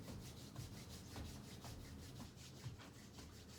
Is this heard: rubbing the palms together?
yes